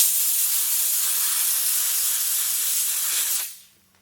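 A steam cleaner used on a car interior gives a loud, steady, broadband hiss of spraying steam that runs continuously, then cuts off abruptly near the end, leaving near silence.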